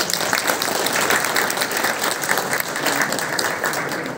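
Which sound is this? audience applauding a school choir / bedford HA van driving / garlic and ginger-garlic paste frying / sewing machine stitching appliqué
audience applauding a school choir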